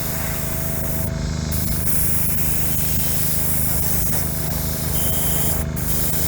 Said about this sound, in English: I think I'm gonna put one more coat and help it flash dry real quick.